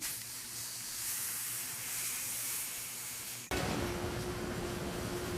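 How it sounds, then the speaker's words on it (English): Steam peeling of potatoes in a Pringles crisp factory: a faint, steady industrial hiss that jumps abruptly to a louder, broader rushing noise partway through. "Steam aids peeling."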